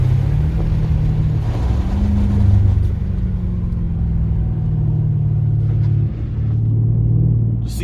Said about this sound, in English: a lot of wind, a lot of wind.